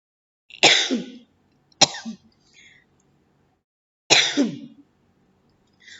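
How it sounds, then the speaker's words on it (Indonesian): Three separate throat-clearing coughs, close and fairly loud, spaced apart with short quiet gaps and a faint fourth at the very end. "mohon maaf, batuk dulu"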